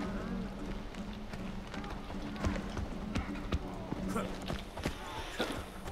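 Goats running in the video game Far Cry Primal, a quick scatter of clattering hoofbeats at moderate volume mixed with other in-game ambience.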